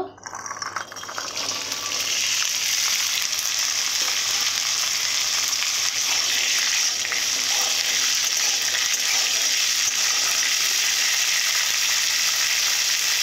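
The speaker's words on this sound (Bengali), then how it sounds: "তেল দেওয়ার পরে আমার সেদ্ধ করা কড়াইগুলো আমি ভেজে নেব।" Boiled peas fry in a few spoonfuls of oil in a pan, giving a steady, loud sizzle that holds evenly throughout with no voices over it.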